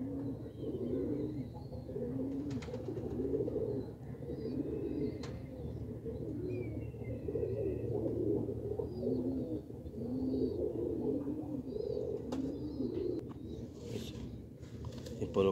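High flyer pigeons cooing in a loft, a steady low murmur of overlapping coos with occasional chirps, close and continuous throughout.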